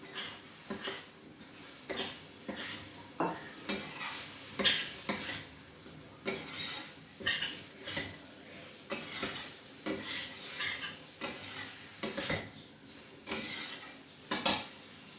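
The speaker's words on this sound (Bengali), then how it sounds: "এখন যে আমি আলুটা ভেজে রেখেছিলাম, আলুটা দিয়ে দিই।" Fried potatoes tipped into hot oil for an aloo matar paneer curry and stirred in a pan, with a steady series of scraping, clinking spatula strokes against the metal and a soft sizzle underneath, close and moderately loud, no talk.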